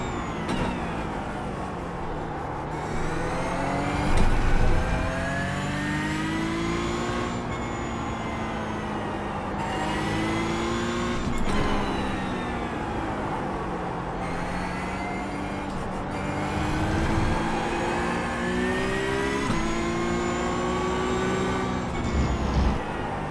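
Porsche 992 GT3 Cup racing car lapping the Sachsenring in iRacing, its engine loud and continuous, rising through the gears and dropping sharply under braking in repeated cycles, with no voices.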